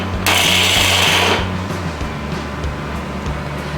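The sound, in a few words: mixer grinder grinding roasted dry nuts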